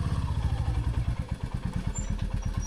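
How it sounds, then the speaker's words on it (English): A motorcycle in neutral being given a little gas, its engine idling with a steady low throbbing pulse that quickens slightly, close by and continuous. "Neutral. Give it a little gas."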